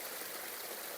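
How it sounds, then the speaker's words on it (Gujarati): Meltwater from melting snow runs steadily beside a snow cave in the Himalayan Badrinath area, a continuous moderately loud trickling and streaming wash with no pauses and no voices. "ભાઈ જો બરફ ઓગળી ઓગળી ને પાણી આવે છે."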